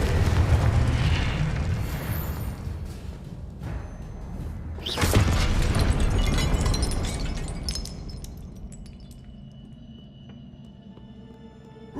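A Confringo spell blast in Hogwarts Legacy erupts with a loud, sharp explosive boom midway, following a rumbling roar of magic, then decays into a lingering crackle and quieter ambience.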